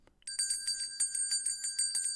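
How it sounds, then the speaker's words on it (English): A bright metallic bell rings in a rapid repeated series of about a dozen clear strikes after a brief soft knock, each tone sustained and close, no talking. "Let me warm that bell up."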